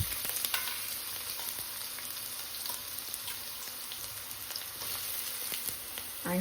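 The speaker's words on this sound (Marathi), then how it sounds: "त्यासाठी मी एका भांड्यामध्ये 2 चमचे तेल टाकलं आहे आणि त्यात मी टाकणार आहे कांदा" Onion frying in a little oil in a pan makes a steady, dense sizzling hiss that stays close and even throughout, with faint stirring clicks and no voices.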